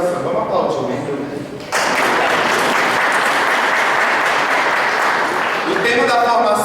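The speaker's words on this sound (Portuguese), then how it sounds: "Vamos aplaudir o membro." Audience applause at a prayer meeting training session, a loud sustained burst of clapping that breaks in after a speaking voice and fills several seconds before talk resumes on top.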